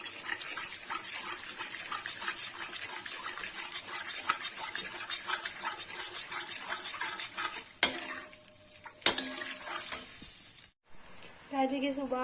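Turmeric and red chilli sizzle in oil as they are stirred for Kashmiri dum aloo, with steady close frying hiss, repeated utensil scrapes and a few sharp clanks near the end.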